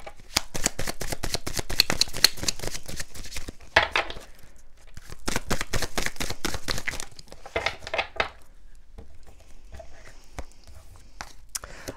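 Oracle cards being shuffled, handled and drawn from a deck during a love card reading, giving a close, busy run of crisp riffles, flicks and paper rustles that thins into scattered taps and soft shuffles.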